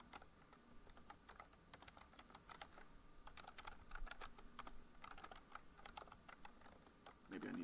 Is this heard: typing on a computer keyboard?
yes